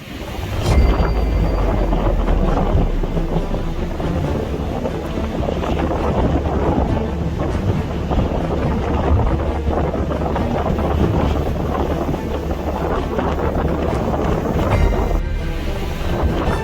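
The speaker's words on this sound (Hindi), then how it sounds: "यहां समंदर में ऊंची ऊंची लहरें उठ रही है" High sea waves driven by Cyclone Biparjoy crash along the Gujarat coast, a dense continuous roar of surf mixed with heavy wind buffeting the microphone, loud and unbroken throughout.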